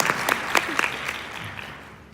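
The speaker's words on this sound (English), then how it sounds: "If everybody could give him a quick round of applause" A small audience at a tech conference session gives a brief round of applause, a few sparse claps near and distinct that quickly die away into room quiet.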